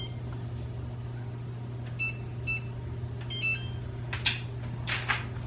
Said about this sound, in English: I set the timer for 45 minutes